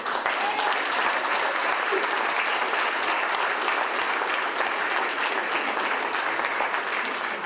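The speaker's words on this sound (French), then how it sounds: "Vous avez 11 futurs maires de la région Poitou-Charentes et on peut les applaudir" A crowd at a UMP public meeting in Puilboreau applauds eleven municipal candidates from the Poitou-Charentes region with loud, dense, continuous clapping that fills the room from start to finish.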